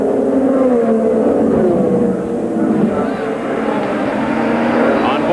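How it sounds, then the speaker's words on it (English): A field of race cars accelerating at the start of the 1993 Indianapolis 500, a dense, loud, continuous engine roar that swells steadily with a commentator talking over it. "The cars now begin to accelerate."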